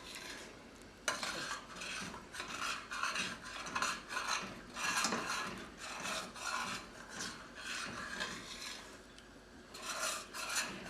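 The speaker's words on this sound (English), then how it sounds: "I'm just stirring them to keep it from sticking because this is not a non-stick pan" A spoon scrapes and stirs breakfast burrito filling around a large pan that is not non-stick, making a steady, close rasping and rubbing with rhythmic strokes and no talking.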